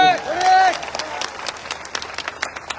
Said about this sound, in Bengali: ওনার জন্য একটা হাততালি